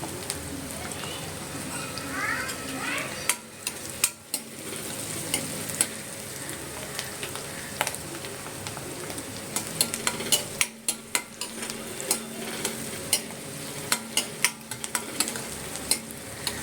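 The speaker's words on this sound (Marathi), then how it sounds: "कांदा लाल करून घेऊया." Chopped onion frying in a pan for a crab curry, a constant close sizzle broken by repeated stirring scrapes and clicks of a spoon against the pan.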